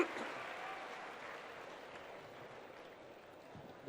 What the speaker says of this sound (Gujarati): તાળીઓના નાદથી આપણે ડેપ્યુટી કલેક્ટરશ્રીને વધાવીએ છીએ.